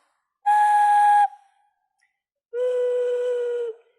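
Handmade clay whistle blown twice, close and loud: a short higher steady tone, a pause, then a longer lower tone, each clean and sustained with a quick stop.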